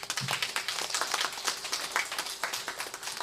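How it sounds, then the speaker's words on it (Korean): A church congregation at a worship service in Mokpo claps together, producing a dense, steady patter of hand claps that stays fairly even for a few seconds with no voices over it. "박수 한번 쳐주십시오."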